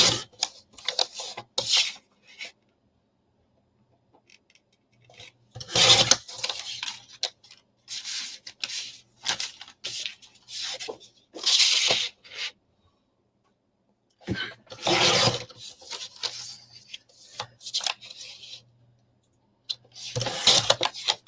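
Paper trimmer blade sliding through cardstock to cut 3.5 by 7.5 inch pockets for a vagabond briefcase minibook, several separate short rasping strokes spaced across a quiet room, close and moderately loud.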